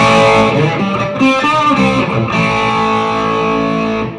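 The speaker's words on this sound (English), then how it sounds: "I like to stack it with this Wampler Tumnus here. I'll use this for kind of like an overdrive." Electric guitar chords ring out through a Rat clone distortion pedal stacked with a Wampler Tumnus overdrive, giving a loud, thick, saturated tone that holds and sustains for a few seconds before fading slightly at the end.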